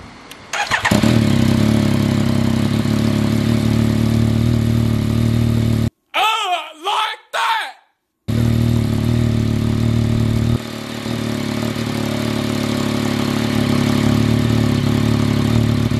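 A Yamaha MT-09 motorcycle fitted with a Black Widow full exhaust starts with a loud bark and settles into a deep, rumbling idle, close by. A short gap holds a few blips before the steady idle resumes.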